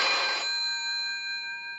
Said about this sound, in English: As soon as that telephone is ringing, people jump.